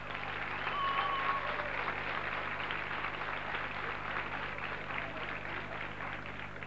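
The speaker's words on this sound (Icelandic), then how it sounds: "Og svo skulum við gefa eitt extra klapp fyrir henni Jóhönnu Þórhaldsdóttur" Sustained audience applause fills a hall at a 1991 secondary-school singing competition, a broad even wash of clapping heard at a distance with faint murmuring beneath.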